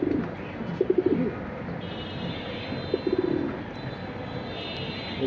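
Deep blue Jabra fancy pigeons coo nearby in a couple of soft, throaty bursts, with faint chirps and light ambient noise in between.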